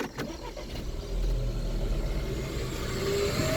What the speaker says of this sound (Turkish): İlk önce ben bir arabayı çalıştıracağım.